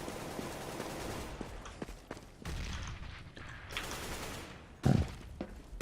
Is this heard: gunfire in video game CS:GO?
yes